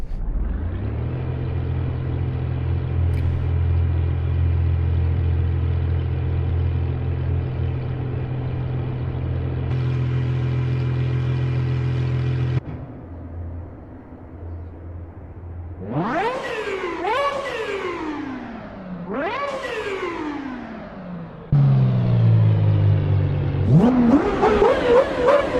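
GMA T50 road car engine idling with a deep steady drone, then dropping and firing off several sharp high revs that rise and fall, loud and close with no talk.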